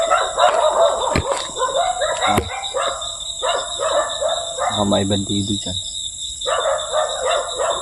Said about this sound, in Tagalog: Kasi may aso po mga tol.